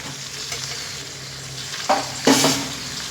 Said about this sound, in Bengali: আবারও দু থেকে তিন মিনিট মশলার সঙ্গে সব উপকরণ খুব সুন্দর করে কষিয়ে নেব